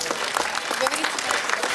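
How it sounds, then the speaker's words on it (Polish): An audience at a Ukrainian festival of Polish culture applauds warmly, with dense, steady clapping throughout and a voice speaking over it. "Proszę o gorące oklaski."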